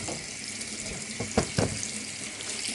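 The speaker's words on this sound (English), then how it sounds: "I also run this underneath the tap" Steady kitchen tap water streams into a sink while raw chicken thighs are rinsed under it, a continuous close hiss with a couple of brief splashy bumps as the meat moves through the flow.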